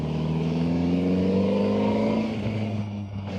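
Voge RR 500 S motorcycle engine in normal mode, third gear around 3,000 RPM, blipped on and off the throttle, giving a steady loud engine drone with rising and falling revs, then easing off near the end.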